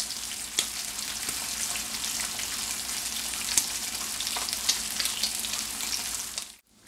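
Bacon sizzles and fries on a hot Steelmade griddle, a steady dense crackle with scattered pops and spits close up, running continuously before cutting off abruptly at the end.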